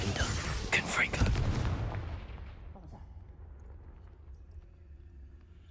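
The Confringo fire blast spell from Hogwarts Legacy goes off in a burst of loud booming impacts that quickly die away into a fading tail, followed by quiet ambience.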